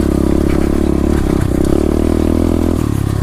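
A 2016 SSR 125 pit bike engine runs loud and close, a steady buzzing drone with a slight rise and dip in pitch throughout and no speech.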